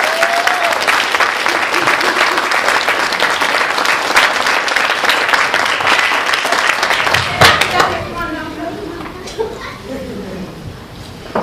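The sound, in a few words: wedding guests applauding the bride and groom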